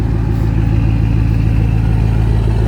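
A Kubota tractor's diesel engine idles steadily after warming up at a tree removal job site, a continuous low, even rumble that stays close and loud throughout, with no talking.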